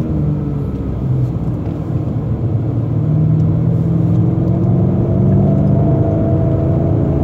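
A BMW M5 F90 sedan engine drones steadily while driving hard on the Sepang race track, a continuous loud rumble with rising tonal engine notes and no voices.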